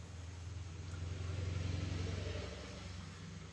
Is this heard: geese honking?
no